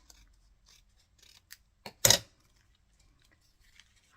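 Scissors snip perforated paper in a quiet room, giving a few faint ticks and one crisp, close cut.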